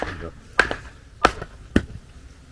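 A Walther MachTac 4 tanto machete chopping very hard wood, three sharp, loud thwacks spaced about half a second apart, each followed by a brief ring, against a quiet background.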